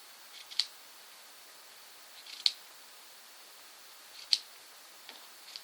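Scissors snipping through yarn while trimming a crochet pom-pom for a girl's Tunisian crochet hat, four faint, crisp cuts spaced about two seconds apart in an otherwise quiet room.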